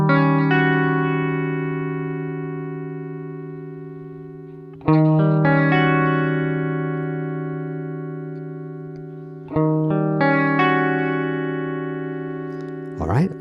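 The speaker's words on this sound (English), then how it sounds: "the shape allows us to change the waveform of the tremolo sound." Sustained electric guitar chords with a pulsing tremolo wobble from a Waverley Instruments Juniorverb Deluxe Plus module, restruck three times, each ringing out and slowly fading between strums.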